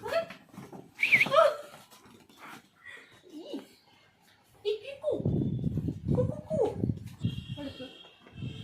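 A village dog in the countryside making short whimpers and yips close by, mixed with people talking and some rustling movement.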